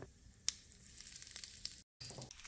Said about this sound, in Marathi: पावछोटा चमचा मोहरी व जिरे तडतडले पाहिजे